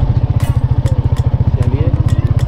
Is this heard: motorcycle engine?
yes